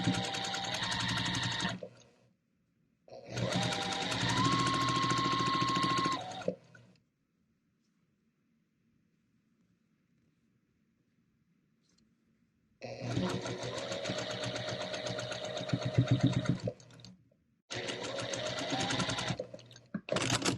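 Quilt block pieces run through a sewing machine in several close bursts of fast, steady stitching, separated by quiet pauses.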